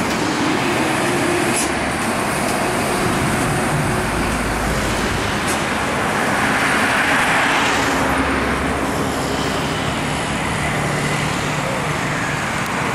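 An MPM bus with a Jetbus body rolls along a road, surrounded by a loud, continuous roar of traffic with engine rumble and broadband tire noise that swells slightly as vehicles pass.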